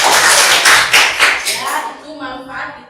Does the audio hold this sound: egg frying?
no